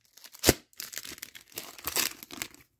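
An Upper Deck Allure AEW wrestling card pack is torn open, with a sharp rip up close followed by crinkling foil and several softer tearing bursts, and nobody speaking.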